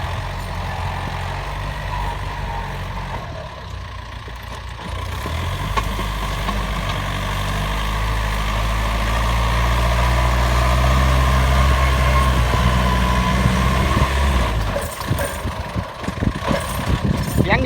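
A Yanmar 45 hp tractor engine runs while driving in a field, a steady low diesel rumble that builds slightly in loudness before easing off with clattering near the end.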